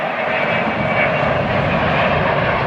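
A jet airliner landing at LAX, its steady loud engine roar droning close and continuous without pause.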